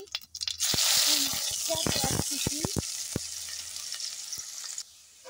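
Whole cumin seeds sizzling loudly in hot oil, a steady hiss with scattered sharp crackles and a few clicks of stirring, fading slightly toward the end.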